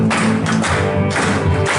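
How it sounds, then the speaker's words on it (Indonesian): Short burst of group hand clapping from a church retreat congregation, dense and close, in a few quick surging waves. "Ayo tepuk tangan semua."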